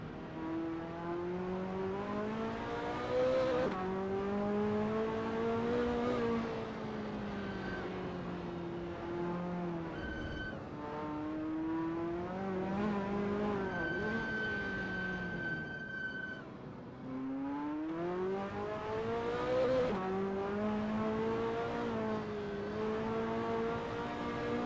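A Ferrari F40 race car in a racing video game laps Sonoma, its engine a loud, steady drone that climbs in pitch and drops sharply at several gear shifts, with a thin whine above it.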